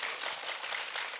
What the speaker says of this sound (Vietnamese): Chúng ta vỗ tay để Quang Bi thêm sảng khoái.